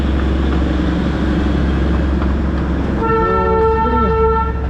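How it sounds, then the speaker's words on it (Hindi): An Indian Railways train horn toots loudly in the last stretch, sustained and steady over a constant low rumble of road or engine noise, with fog-bound Darjeeling hill surroundings. "Indian railways"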